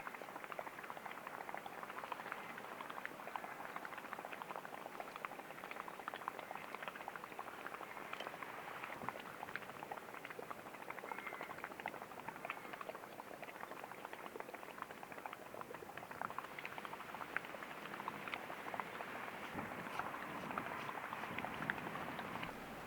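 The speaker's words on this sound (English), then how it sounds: "From the compressor, air comes into the pool via 15mm PEX plastic plumbing pipe." Compressor air bubbling into a cloudy organic pool through 15mm PEX plastic plumbing pipe: a steady, dense bubbling and gurgling that carries on evenly throughout, with no talk over it.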